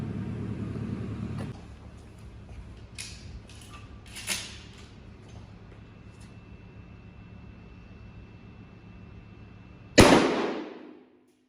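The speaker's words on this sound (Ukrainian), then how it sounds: "стріляти будемо з відстані 20 метрів дріб'ю" A single loud shotgun blast firing birdshot from 20 metres cracks sharply near the end after a long stretch of quiet outdoor ambience, its report fading quickly.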